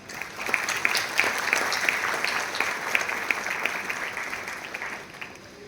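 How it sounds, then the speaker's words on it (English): An audience at a college orientation program gives a generous round of applause to welcome new students, steady mid-level clapping with a few sharper claps standing out, fading toward the end. "Please welcome them with a generous round of applause."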